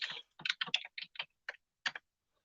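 Someone types on a computer keyboard in a short, quiet burst of about ten separate keystrokes with small gaps between them. The clicks are close by and heard alone with no talking.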